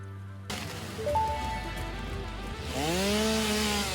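An in-game chainsaw from Satisfactory revs up and holds a steady, buzzing motor drone, with rising whine tones toward the end.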